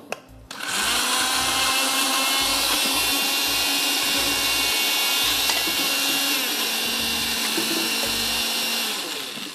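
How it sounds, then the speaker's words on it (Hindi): A blender whirs steadily as it purees coconut and spices with a little water for a white curry, starting with a short burst, then a loud sustained motor drone with a steady hum that tapers slightly at the end. "और इसको हम ब्लेंड कर देते हैं। वो सारी चीज़ें भी ब्लेंडर में जाएंगी।"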